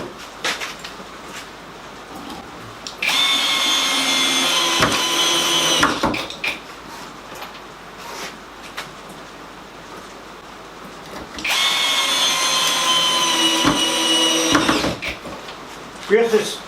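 A power drill drives 75 mm screws into wood while a veneer press is built, running in two long, close whirring bursts of about three and five seconds separated by a quieter pause.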